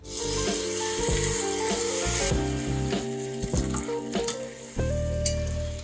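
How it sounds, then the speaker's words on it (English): Beef browning in a pot for soup, a loud steady sizzle with occasional stirring clatter and a background musical hum, close and continuous with no talking. "The first thing that we're going to do is just brown the meat"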